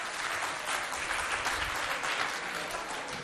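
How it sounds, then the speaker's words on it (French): Schoolchildren at an evangelical school event applaud themselves in a dense, continuous burst of clapping that holds steady throughout, with some voices mixed in. "Applaudissez pour vous, les enfants"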